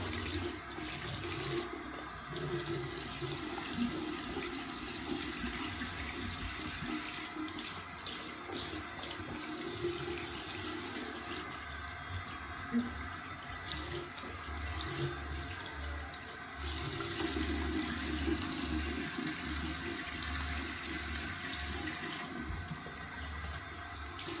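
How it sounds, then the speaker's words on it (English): Water runs steadily at a bathroom sink during a straight razor shave as a washcloth is rinsed in cold water, a continuous close rushing flow with no talking. "Rinse in cold water."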